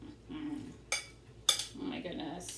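Leftover ham pasta is served into dishes, with two sharp clinks of a utensil against a dish and soft scraping and shuffling of food between them, close and fairly quiet.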